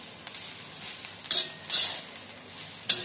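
Green chilli thecha with coriander sautés in a pan until crisp, giving a soft, quiet sizzle broken by a few sharp scrapes of the spatula.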